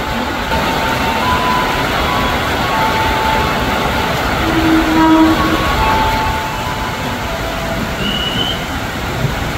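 A commuter electric train bound for Bekasi rumbles steadily at Kemayoran station platform in Jakarta, with brief faint horn or brake tones rising over the loud continuous roar of the cars rolling past.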